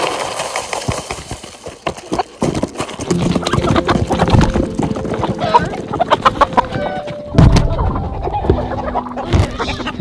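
Chickens from a farm flock of about 47 birds cluck and cackle busily close by, with scattered footsteps, shuffling and other farmyard clatter mixed in and no talking.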